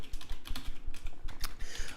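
Rapid, uneven clatter of keys on a computer keyboard during a live online speaking class, close and fairly loud, with bursts of clicks running steadily for two seconds and no voices.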